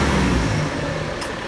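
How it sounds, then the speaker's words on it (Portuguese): A car engine idles with a low steady rumble, close and constant, with a brief higher hiss near the end. "Olha o barulho do motor desse carro"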